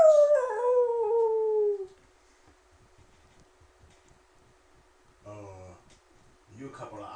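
A man imitates a wolf howl with his voice, a long falling wail up front that is loud and close, followed by quiet and then brief speech.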